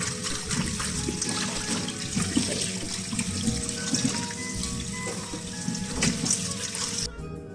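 Tap water runs steadily while marinated chicken is rinsed under it in a sink. The splashing is continuous and close, with no speech.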